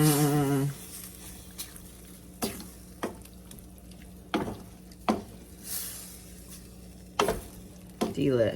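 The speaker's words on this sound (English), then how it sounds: "we're going to give it a good stir" A spoon sweeps through food in a cooking pot in a home kitchen, giving several separate scraping strokes with quiet pauses between them, and a voice is briefly heard at the start and the end.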